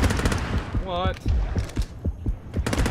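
Rapid gunfire from the underwater shark game Depth rattles in quick bursts of sharp, close shots, broken by a short warbling electronic tone and a few thuds.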